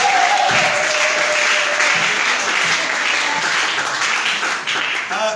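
Church congregation applauding steadily, a dense sustained wash of clapping at close to mid distance that carries through the whole stretch, with a few faint voices mixed in.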